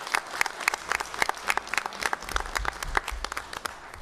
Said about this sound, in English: a round of applause for Thomas.